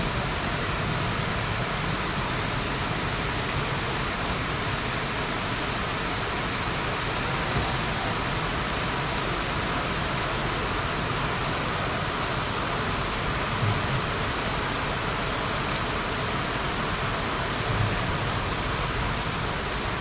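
A downpour drums over the Rajkot market yard as tarpaulins are tied over the onion sacks. The rain is a constant, loud hiss and patter that runs unbroken throughout, with no voices.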